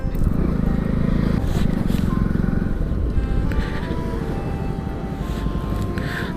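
A Hayabusa motorcycle rides steadily, its continuous engine drone and road rumble holding loud and close throughout, with wind noise over the top and no clear talk.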